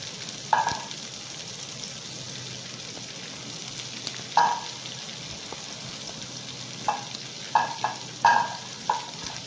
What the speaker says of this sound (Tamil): அதுக்கப்புறம் நம்ம எடுத்து வச்சுருக்கிற புதினா தலையை அது கூட சேர்த்து அதையும் சேர்த்து நல்லா ஃப்ரை பண்ணிக்கலாம்